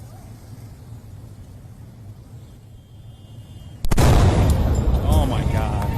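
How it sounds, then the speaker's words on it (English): An explosion erupts amid an anti-government street protest on Venezuela's election day, a sudden loud blast after several seconds of quiet crowd murmur, followed by a roaring wash of noise and shouting voices. "Explosion took place amid anti-government protests on Venezuela's election day."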